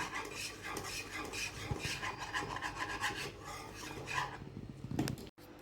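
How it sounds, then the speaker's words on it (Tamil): A spoon rasps and scrapes repeatedly against a nonstick pan as thick carrot halwa is stirred, steady rhythmic scraping close by with no talking. "ஊற்றிட்டு நல்லா கிண்டிக்கலாம்"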